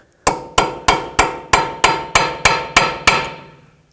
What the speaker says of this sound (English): So I'm going to use a little chisel and just indent it.